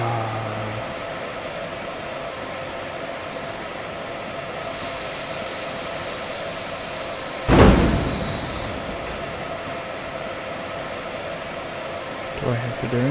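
In Train Simulator 2016, an electric locomotive couples onto its wagons with one loud metallic clank and a brief rumble, heard over a steady low engine drone.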